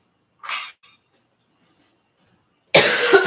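A single short cough, then after a quiet pause a second, louder cough close to the microphone.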